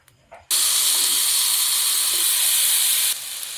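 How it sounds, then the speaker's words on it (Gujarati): Paneer tikka and onion drop into hot oil on a tawa, setting off a sudden loud, steady sizzle that holds strong for a few seconds before easing slightly, with quiet sounds before it begins. "હાફ ફ્રાય થવા દઈશું"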